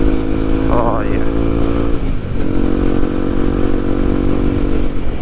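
A Kawasaki KLX motorcycle being ridden, its engine droning loud and close with a couple of brief rev changes early on, then holding a steady pull with constant road and wind rumble.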